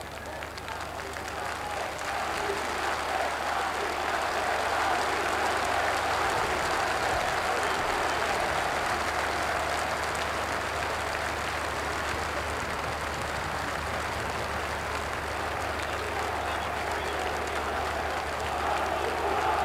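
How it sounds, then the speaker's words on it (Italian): Sustained applause from a large crowd at the 1988 funeral of Almirante and Romualdi, a dense steady clapping that swells after the opening seconds, with a voice speaking over it. "Ecco ancora gli applausi."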